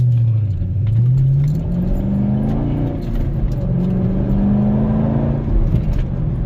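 A 2010 Chevrolet Camaro 2SS V8 driving on the road, heard from inside as a steady loud engine drone that rises and falls in pitch with gear changes and throttle, over constant road rumble.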